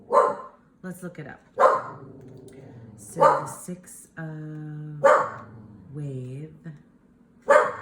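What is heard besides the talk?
dog barking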